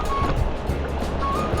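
Sea waves wash low onto the shore at Unisan on an overcast day, a steady broad surf roar with soft swells, fairly close and continuous, with no talking.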